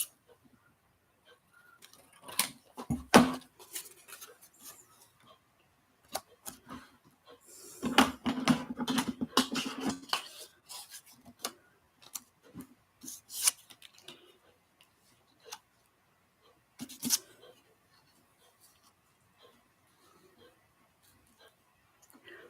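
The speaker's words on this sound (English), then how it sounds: "We'll cut this in half." Paper being cut in half with scissors while making a happy mail journal, heard as scattered close snipping and rustling bursts, busiest in the first half and thinning out later, with quiet handling noises between.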